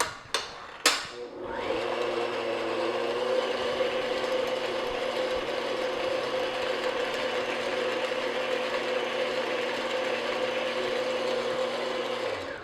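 Pumpkin cake batter being mixed by an electric mixer, with a few sharp knocks at the start and then a steady, close, continuous motor whir with an even, unbroken tone that runs throughout.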